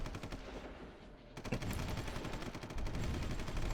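Dense, continuous gunfire from the strategy game Supreme Ruler Ultimate, a steady rattling fusillade of rapid shots that thickens partway through and carries on without pause.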